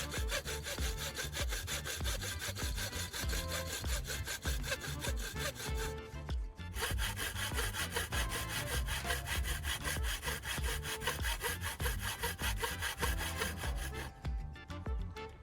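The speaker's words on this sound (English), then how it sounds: "use a hacksaw to carefully cut out the V-shaped groove" Hacksaw cutting a V-shaped groove into a brush handle clamped in a vise: steady, close back-and-forth rasping strokes that continue almost without a break, pausing briefly once.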